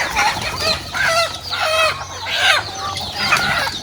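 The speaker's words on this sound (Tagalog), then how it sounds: "Daming manok dito." Chickens cluck and call repeatedly over a farmyard background, with a rooster crowing in the mix; several birds are close and fairly loud.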